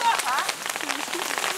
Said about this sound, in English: Yeah, and it's raining.